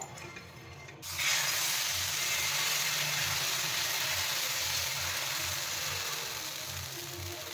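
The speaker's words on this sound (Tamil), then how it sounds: "இப்போ அடையை ஊற்றிக்குவோம்ப்பா நல்லா அப்ளை பண்ணிக்கலாம்" Adai batter made with bottle gourd is poured onto a hot griddle. After a short quiet start it bursts into a loud, close, broad sizzle that holds steady and fades a little near the end, with no talking.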